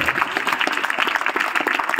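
An audience at a school lecture event claps for the organisers, a dense run of many hands applauding together, moderately loud and sustained throughout without talk.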